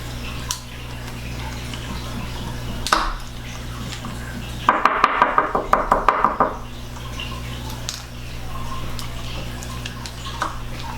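Buttermilk mixture poured back into a bowl, a short liquid splash midway with a few light clinks against the bowl, fairly quiet against a low background hum.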